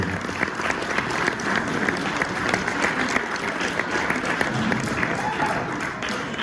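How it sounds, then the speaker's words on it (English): A crowd at a stock car racing awards night for the 2024 season gives a round of applause. The clapping is steady and moderately loud, sustained evenly for several seconds. "we'll have a round of applause for Jared, please"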